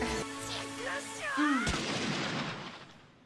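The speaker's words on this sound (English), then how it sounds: "I like the gunshot sound, just to give it that effect." A single sharp gunshot blast in a Naruto anime episode cuts through a swelling dramatic musical tone, followed by a decaying noisy rumble that fades out.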